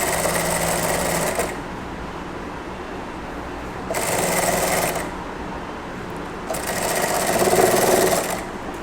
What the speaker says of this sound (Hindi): पहले बीच में एक सिलाई चला दो, जिससे ये प्रॉपर अपनी जगह पे बना रहे कच्चे टाके के साथ